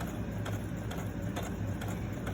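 Sewing machine stitching fabric and reversing for a short back stitch, a steady close mechanical whir with faint rhythmic ticks running throughout.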